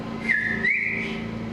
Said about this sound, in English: and then he whistled again